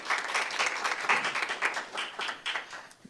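An audience applauds at a student government debate, a burst of clapping from a modest crowd that rises and falls in uneven waves before tapering off.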